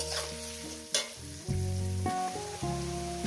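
Oil sizzles steadily in a pan on medium gas while onions fry for a radish and chicken curry, a continuous close frying hiss running under a layer of melodic background music.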